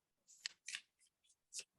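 Tarot cards shuffled during an astrology reading give a few soft, quick riffling bursts, faint and close, with short pauses between them.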